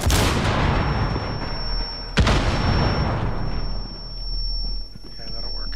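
A frag grenade goes off in Rainbow Six Siege during a team deathmatch, a loud explosive burst partway through amid steady gunfire and rumble, with a high ringing tone after and voices talking.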